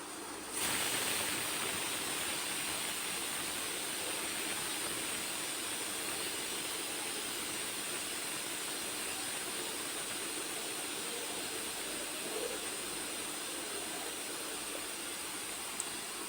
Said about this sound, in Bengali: এভাবে আমি পরপর 3টা সিটি দিয়ে নিব।